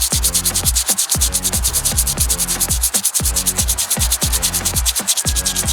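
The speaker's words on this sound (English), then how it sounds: "So let's go ahead and just file this coil down." Emery cloth is rubbed briskly back and forth over the rusty metal of a Kawasaki Mule ignition coil. It makes a steady, rhythmic rasping scrub, loud and close, with no talking.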